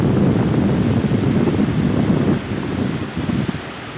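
Ocean waves wash steadily onto the shore at Bell Harbor in Miami, a loud, continuous broadband surge mixed with wind buffeting the microphone, easing slightly partway through.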